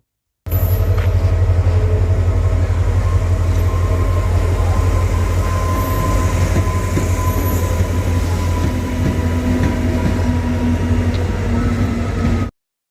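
A Howrah–Amta local train rolls into a platform, a loud continuous low rumble of wheels and carriages with faint metallic squeals, steady throughout with no talk.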